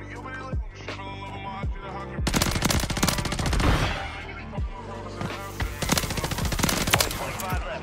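BP50 SMG firing in Call of Duty on Rebirth Island: loud rapid bursts of automatic fire, several sustained strings of shots with brief pauses between them, close and dominant.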